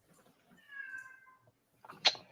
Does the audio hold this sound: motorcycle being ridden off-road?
no